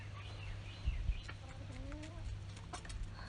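Chickens clucking softly outdoors in a farmyard, with a pig nearby, low murmuring calls over a steady background hum.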